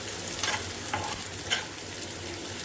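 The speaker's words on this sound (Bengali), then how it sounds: "একটা মিডিয়াম সাইজের পেঁয়াজ ভালো করে একটু নাড়াচাড়া করে নিই।" Chopped onion and mustard seeds fry in hot oil for taro fritters, a loud, continuous sizzle broken by several scraping stirs of a spatula, close up.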